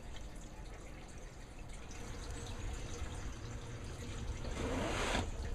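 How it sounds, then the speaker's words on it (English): Water draining through a siphon in a beginner DIY aquaponics grow bed, a steady close trickling and gurgling flow that swells and grows louder toward the end, with no talking. "when the water level falls down to here, it'll break that"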